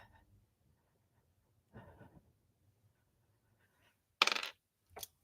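Dice are rolled, giving a soft rattle followed by two sharp clattering hits close by, with quiet gaps between them.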